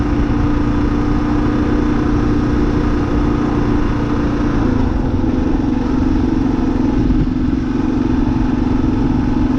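A 2023 Kawasaki KLR 650 motorcycle rides steadily over hard-packed ground, its engine droning loud and close with a constant mid-pitched roar and rattling clatter throughout, no voices.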